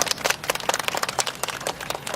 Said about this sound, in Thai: ขอเสียงปรบมือเป็นกำลังใจให้กับทั้งสองท่านค่ะ